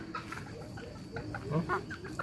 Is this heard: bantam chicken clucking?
yes